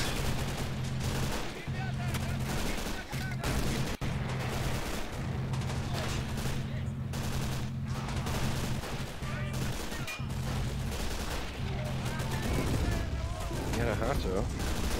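Dense, continuous gunfire and explosions from the World War II strategy game Men of War: Assault Squad, with a steady low rumble beneath overlapping bursts and occasional sharper cracks, while players talk over it.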